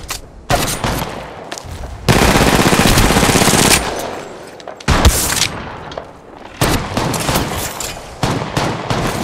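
Loud, close automatic gunfire in the mobile game Apex Legends Mobile, with sustained rapid bursts, sharp single blasts and a booming impact, broken by short pauses between volleys.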